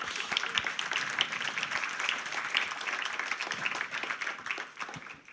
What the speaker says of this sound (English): There are also a round of applause for them.